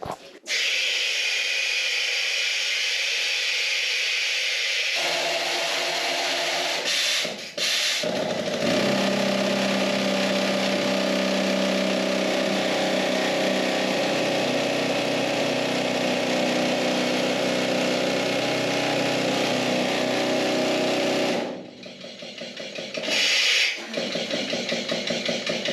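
A drilling machine runs inside a mine: a loud, steady hissing mechanical roar starts after a brief pause, holds for about fifteen seconds with short interruptions, then cuts off and sputters briefly near the end.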